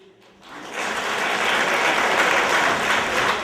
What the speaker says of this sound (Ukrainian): Школярі, ліцеїсти та їх учителі аплодували просвітянам стоячи